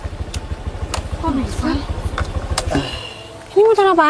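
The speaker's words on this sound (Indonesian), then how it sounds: "Ini motor apaan sih? Berisik banget. Ya ini Ninja Jet." A Kawasaki Ninja ZX motorcycle engine idles with a steady, low, pulsing rumble that runs close by for most of the moment. People's voices break in and talk over it toward the end.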